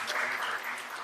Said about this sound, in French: applaudir Madame Ledan